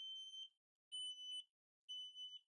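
An AEGISLINK S-RF500 wireless interlinked smoke alarm sounds three loud, piercing electronic beeps, each about half a second long with brief silent gaps, clean and alone with no voices.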